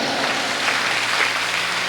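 Steady, dense clapping from an audience at a Hindi comic poetry recital, a continuous wash of applause with no voices.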